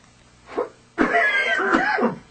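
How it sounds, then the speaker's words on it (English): Two coughs: a short soft one, then a longer, harsher, rasping cough lasting about a second, close and loud. "First, the coughs."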